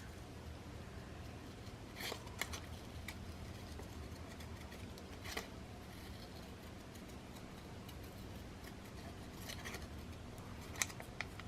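Scissors cut along a pencil line in paper for a travelers notebook cover, faint snips scattered through a quiet stretch with steady background noise, several short crisp cuts at irregular intervals.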